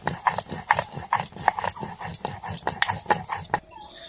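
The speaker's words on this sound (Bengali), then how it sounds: "শুকনো লঙ্কাটা বেটে নিয়েছি, এবার আমি জিরে বেটে নিচ্ছি।" Cumin seeds being ground by hand on a stone slab: a steady run of rhythmic rasping strokes, roughly two or three per second, close and fairly loud, with no talk.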